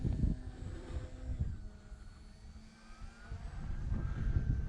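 An E-flite T-28 RC model airplane flying aerobatics overhead, its electric motor a steady distant whine that swells and fades as it passes, with faint breeze noise and no voices.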